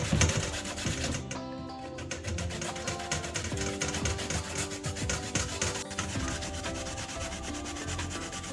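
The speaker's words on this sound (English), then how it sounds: "Just gonna grate the sweet potato." Peeled sweet potato being grated by hand on a metal grater, a steady run of quick rasping strokes that continues without pause, close and fairly loud, with music playing underneath.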